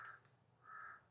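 Crows cawing outdoors, two harsh calls separated by a short pause, moderately loud against a low background rumble.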